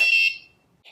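A homemade Arduino game-night buzzer wired to arcade buttons gives a loud, shrill electronic tone that rings briefly and then fades, followed by a short, softer second beep near its end.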